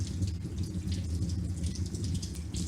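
Filtered water runs from a kitchen tap over a stainless steel knife, a soft steady splashing and trickling close by for a few seconds, with no talking.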